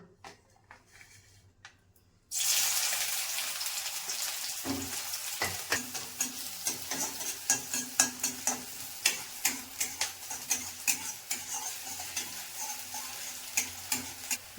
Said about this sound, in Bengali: তো তেলটা গরম হয়ে গেছে, এবারে আমি পেঁয়াজটা দিয়ে দেবো।